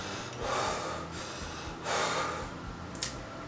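Two breathing-exercise exhales shaped on a sustained S sound, each a soft, airy hiss about a second long, close and quiet, with a small click near the end and no talking.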